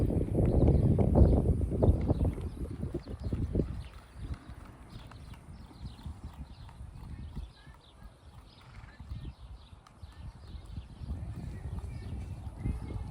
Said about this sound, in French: La diagonale au trot en suspension.